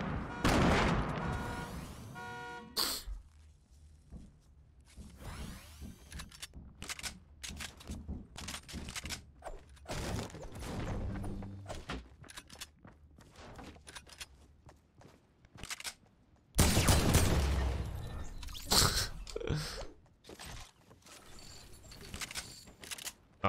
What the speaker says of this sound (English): I thought that was a submachine gun